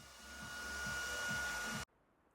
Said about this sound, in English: go around the edges with a heat gun, or in our case, my partner's hairdryer